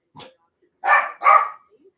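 A dog gives a short yip followed by two loud, close barks in quick succession, heard alone against a quiet background.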